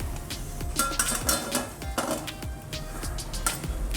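A metal slotted ladle lifts fried thekua, drained of excess oil, onto a plate, with repeated close metallic clinks and scrapes in an irregular rhythm.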